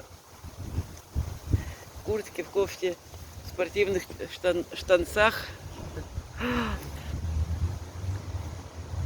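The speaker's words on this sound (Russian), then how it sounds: "Какой ветер." Strong, gusty wind outdoors on a rainy day rumbles low against the microphone and rises and falls while someone talks over it.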